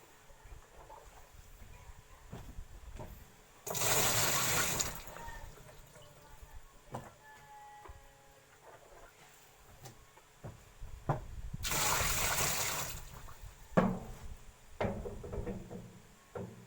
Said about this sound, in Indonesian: Coba kita isi lagi airnya.